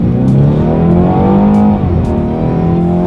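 A 2018 BMW 430i Gran Coupe accelerates hard, its engine note climbing steadily in rising harmonic sweeps, loud and continuous throughout with no talking.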